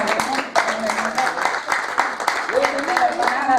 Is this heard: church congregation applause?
yes